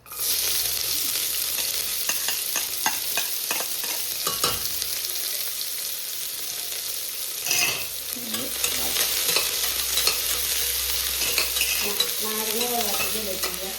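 Sliced onions hitting hot oil with cinnamon and cloves in a pan, a loud continuous sizzle with repeated stirring scrapes, then a brief burst of crackle as the frying settles into a steady hiss.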